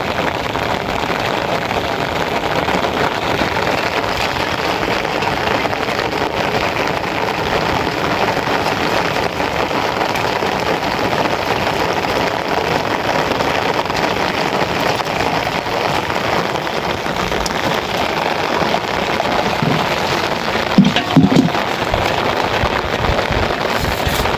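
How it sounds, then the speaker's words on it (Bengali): Light monsoon drizzle falls steadily beside a full river, a soft continuous patter with a few sharper drops and pops near the end, with no voices. "দেখবেন বৃষ্টি নামতেছে গুড়ি গুড়ি বৃষ্টি"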